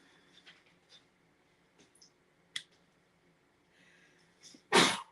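A single sharp sneeze bursts out near the end, loud against a quiet room with faint clicks and rustles of paper crafting beforehand.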